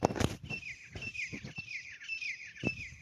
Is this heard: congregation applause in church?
no